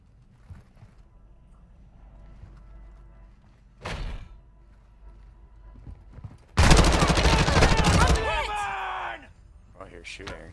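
Gunfire in a video game: a single sharp shot, then a dense burst of rapid shooting with metallic ringing trailing off, heard over quiet game ambience.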